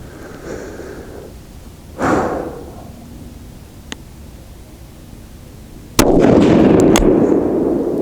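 Rifle fire from a Thompson Center Compass loaded with Hornady 168 g Z-Max: a sharp, loud shot that trails into a long rumbling roar, with a couple of faint clicks and a softer earlier burst.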